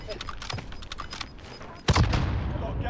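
Rockets fire in the video game Warzone on Rebirth Island, heard as a rapid stutter of gunfire-like bursts and then a louder blast that leaves a sustained rumble.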